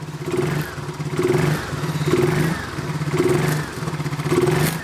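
A Honda Forza scooter with a broken air filter cover idles close by, its engine pulsing in a steady, slightly uneven low throb that rises and dips in regular surges, with no voices over it.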